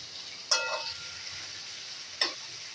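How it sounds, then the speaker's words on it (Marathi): Cooked val beans being sautéed in a pan give a faint, low steady sizzle, broken by two brief sharp scraping stirs, the first just after the start and the second near the end. "हे पहा आपले वाल आता थोडेसे परतून झालेले आहेत"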